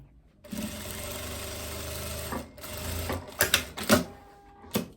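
A sewing machine stitches the armhole curve of a long vest, running in steady stretches that break into short stop-start bursts near the end, close and clear without talk.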